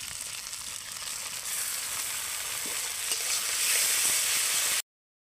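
Tomato pieces with a paste of cumin, ginger and dried red chili fry in oil, giving a loud, continuous sizzle with stirring that builds toward the end, then stops abruptly.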